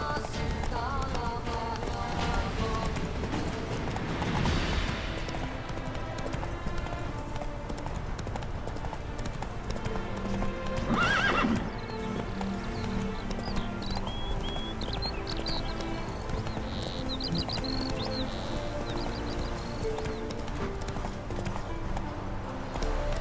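Roach the horse gallops in The Witcher 3: Wild Hunt, with rapid, continuous hoofbeats close by under game music and ambient sound.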